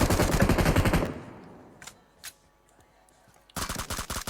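PUBG Mobile gunfire: a loud rapid automatic burst lasting about a second, a couple of faint distant shots, then another sharp rapid burst near the end.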